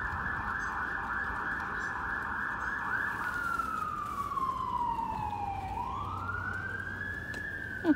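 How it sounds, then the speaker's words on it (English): A wailing emergency siren sweeps down and back up in pitch, loud and continuous, with traffic rumble underneath. "And you hear the sirens again."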